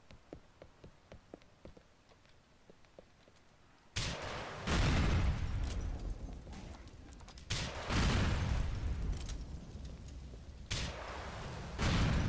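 Vans explode and gunfire erupts in the GTA IV video game, a sudden loud blast breaking a quieter stretch of light clicks, followed by sustained roaring bursts and booms.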